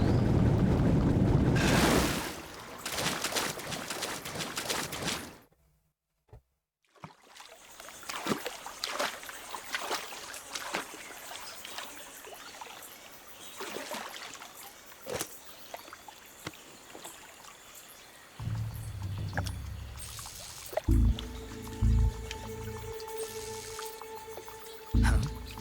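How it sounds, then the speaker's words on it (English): A character wading through water in Metal Gear Solid 3, splashing and sloshing steps that repeat irregularly over a long stretch, with a brief silent gap and some game sounds later. "It's moving too slow walking through water."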